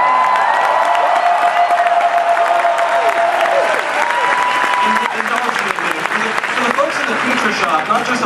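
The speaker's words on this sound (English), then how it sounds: "Not just applause and cheering" A large audience at a Star Wars: The Force Awakens panel roars with loud applause, cheering and whoops, a dense, continuous crowd din with voices shouting through it.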